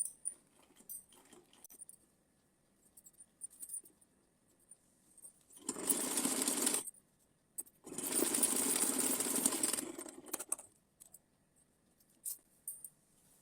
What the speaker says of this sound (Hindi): तो चलिए इसको सिल लेते हैं पहले